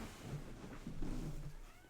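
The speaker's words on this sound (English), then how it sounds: "wants to see my cat" A cat vocalizes close by in a quiet indoor room, a couple of short meow-like calls rising over soft background hum, with no talking.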